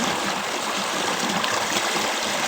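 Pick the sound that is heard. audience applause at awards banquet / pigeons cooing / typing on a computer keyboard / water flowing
water flowing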